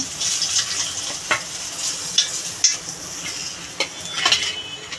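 Fish frying in hot oil in a home Bengali kitchen, with a loud steady sizzle and hiss broken by several sharp clinks and scrapes of a utensil against the pan as the fish is lifted out.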